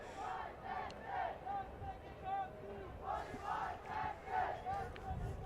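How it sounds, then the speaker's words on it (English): Cricket crowd at an India versus Leicestershire warm-up match chanting in call and response, rhythmic sung phrases rising and falling in repeated waves across a large open ground, steady and moderately distant. "Call and response from the crowd."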